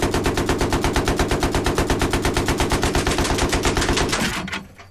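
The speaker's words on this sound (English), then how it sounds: "if I continue to burst fire this weapon, I'm not going to run out of ammo" A Battlefield 3 tank machine gun fires a long, steady stream of evenly spaced loud shots, then cuts off abruptly as it overheats, leaving a short fading tail.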